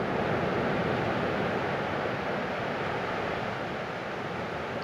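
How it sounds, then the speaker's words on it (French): Ocean waves wash in a continuous, even broadband roar, steady and moderately loud with no distinct breaks, heard alone without voices. "Le son des vagues vous accompagne"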